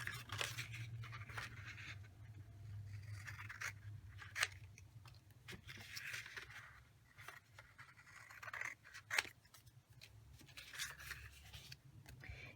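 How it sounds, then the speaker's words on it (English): Scissors snip and trim cardstock for a Stampin' Up! star gift box, a series of short, close cuts with light paper rustling and handling between them, fairly quiet, with no talking. "Now we're going to trim off 1 inch from these 2 here."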